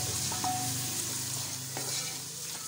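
Mixed vegetables roasting in a pan with a steady, close sizzle and occasional spoon scrapes and clinks as they are stirred; no voices.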